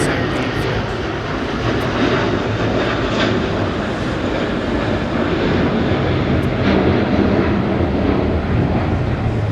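A heavy airliner's jet engines roar steadily at LAX, a loud, continuous broadband rumble holding for the whole stretch with no breaks, likely a departure spooling up on the runway.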